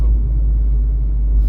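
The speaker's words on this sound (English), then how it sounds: "Another thing that really helps is that you have a very nice sounding car." Low, steady engine rumble from an Abarth 595C Turismo convertible heard from inside the cabin, a continuous deep drone with no distinct revs.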